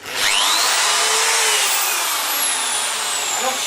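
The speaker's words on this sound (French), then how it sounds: "je vais arrêter de regarder la perceuse" A power drill runs continuously on a film set, a loud high-pitched whirring motor with slight pitch sweeps as it spins up and holds steady, close and without talking.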